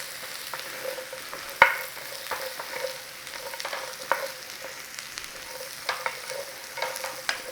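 Garlic and butter cook gently in a pan alongside sausages, giving a soft, steady sizzle with a few scattered clicks and light stirring taps; no voices.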